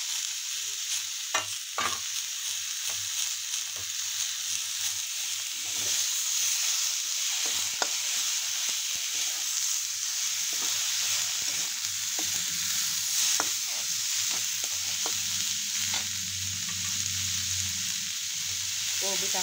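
Chopped vegetables, cabbage and coriander among them, frying in a pan: a steady sizzle with occasional stirring clicks and scrapes, close and moderately loud throughout.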